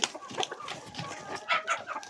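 Hens at a poultry sale of young black Andijan chickens cluck in short, irregular bursts, fairly close, with faint background noise and no clear speech.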